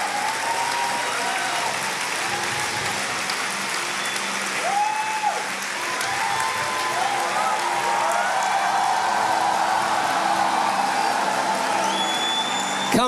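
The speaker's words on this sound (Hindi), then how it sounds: "Come on, lift up your hands and clap." An indoor church congregation claps hands together in a sustained, lively burst of applause, with scattered voices and whoops rising over the continuous clapping.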